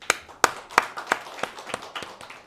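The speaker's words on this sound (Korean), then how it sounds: "손 드신 분들 박수 한번 주세요." Scattered claps from a church congregation during a Sunday worship service, a handful of sharp, separate hand claps at an uneven pace, fairly close and moderately loud with no voices.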